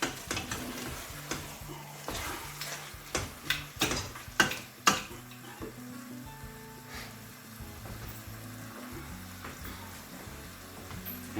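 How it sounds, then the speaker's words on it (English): Chicken tehari being stirred in a pot, with a run of sharp scraping and tapping strokes from the spoon against the pot bunched in the first five seconds, then a steady soft sizzle and low clatter. "Mix it again."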